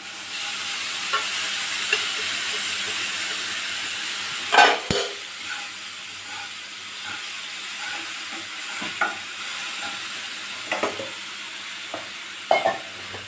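Hot oil sizzles steadily in a pan as tomato fries with onion and turmeric, broken by a few sharp scrapes and clatters of a utensil stirring nearby.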